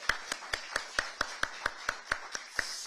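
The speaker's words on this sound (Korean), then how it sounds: "박수 한번 보내주십시오." At a launch event for a Mokpo–Sinan merger committee, hands clap in a slow, even rhythm of about a dozen sharp claps, close and distinct, with quiet room ambience between them.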